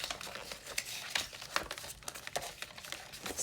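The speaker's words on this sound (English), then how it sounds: "Just going to fold it" Paper for a sewing-themed interactive journal is folded and creased close up, with soft crinkling and rustling in quick irregular bursts, faint and without talk.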